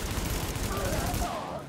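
Gunfire in the video game The Division, a sustained barrage of shots mixed with game noise, fading near the end.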